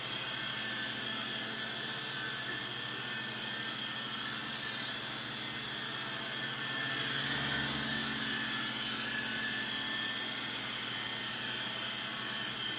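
A Syma S39 Raptor RC helicopter flying indoors gives off a steady high-pitched rotor and motor whine with a constant whirring drone that swells slightly midway, close by and without speech.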